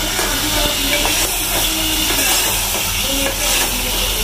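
Minced meat with ginger and garlic sizzles in a pan as chillies and spices are fried in, a steady, loud hiss with faint stirring scrapes throughout.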